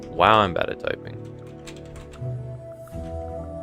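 Quick bursts of clicking on a computer keyboard while programming, near and clear, with someone speaking over and between the keystrokes.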